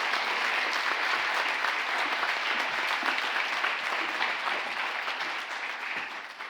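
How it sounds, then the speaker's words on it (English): A symposium audience claps steadily in sustained, dense applause that tapers off slightly toward the end, with no speech over it. "Let's give them another round of applause"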